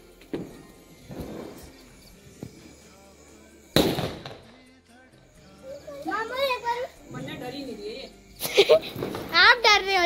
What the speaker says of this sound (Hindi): यहां पटाखे फूट रहे हैं।